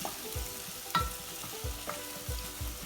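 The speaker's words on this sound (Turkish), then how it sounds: "kavrulması için güzelce karıştırıyoruz" Onions and potatoes sizzle in a soup pot as they are sautéed for red lentil soup, with a spoon scraping and stirring in regular strokes roughly every half second over a constant close frying hiss.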